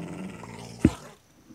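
A wolf in Minecraft growls once when struck, a short, loud guttural burst standing out from quiet game background.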